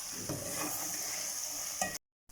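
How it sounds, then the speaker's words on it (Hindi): Okra (bhindi) fries in a pan while a spoon stirs it, with soft scraping strokes over a continuous sizzle, close and clear without speech, ending in sudden silence. "वक्फे वक्फे से हम भिंडी में इस तरह चम्मच चलाएंगे ताकि भिंडी नीचे ना लगे।"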